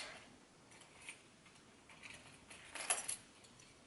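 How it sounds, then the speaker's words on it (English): Keys jangling as they are pulled from a handbag, quiet close metallic clinks and rattles in small scattered bursts, the busiest cluster near the end, with no talk. "Okay, say I just take my keys"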